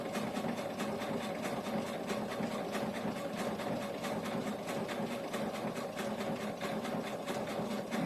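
A sewing machine top stitches a Jody sassy shoulder bag, running at a steady, even pace with a rapid rhythmic clatter of the needle that continues unbroken and close by.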